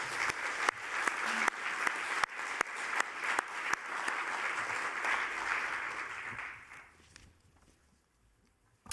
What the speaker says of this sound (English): I think a round of applause would be in order as well.